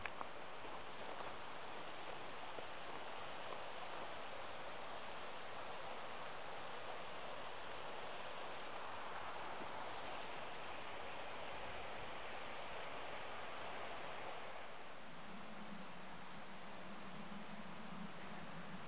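A stream, Crag Brook, flows past a caravan and motorhome club site near Hebden Bridge, West Yorkshire, giving a steady, close, broadband rushing wash throughout with no talk.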